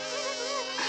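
Cartoon bees buzzing around a honey tree in a Winnie the Pooh scene make a steady, close, loud droning buzz that wavers slightly in pitch for about a second with no talk.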